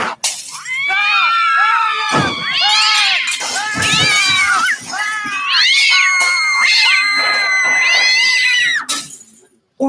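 A cat meows repeatedly in long, loud, drawn-out yowls, one after another with brief pauses, close to the microphone.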